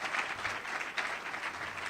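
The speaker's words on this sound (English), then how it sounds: "How about a big round of applause?" Moderate applause from an audience at a talk by a newspaper editor, a soft but continuous patter of many hands clapping together, somewhat distant and without speech.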